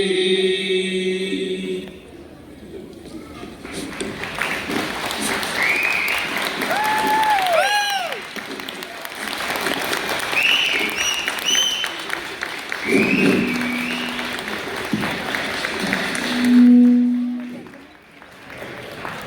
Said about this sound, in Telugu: ఇంత అద్భుత ప్రదర్శనకి ఇంత చిన్నగా చప్పట్లు కొడితే బాగోదు కదా